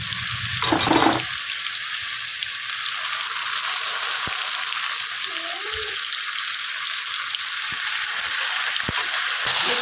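Boiled Malabar spinach goes into fried spice masala in a pan, giving a loud, steady sizzle that holds throughout, with a brief stir or clatter near the start and a few faint knocks.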